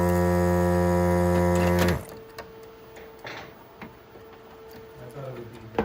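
An Apple III computer fan with dry bearings runs with a steady, buzzy harmonic hum that cuts off abruptly after about two seconds, leaving faint ticks and clicks at a workshop bench.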